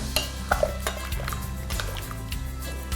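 A utensil stirs salt into a dish in a heavy-bottomed pot, giving repeated scraping clinks of metal against the cookware with a soft sizzle underneath, close and fairly loud.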